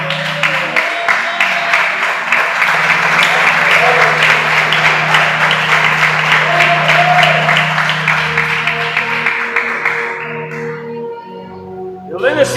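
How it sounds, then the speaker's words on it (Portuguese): Loud, sustained applause from a large church congregation fills the room for about ten seconds, then thins out and fades as a low hum lingers. "bate a salva de palmas bem forte para Jesus"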